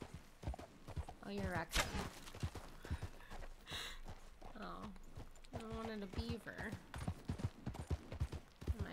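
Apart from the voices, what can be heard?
horse hooves galloping in video game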